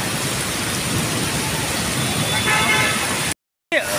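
Heavy rain pours down in a dense, continuous roar close by during a thunderstorm, with water falling from a bridge, then cuts out briefly near the end.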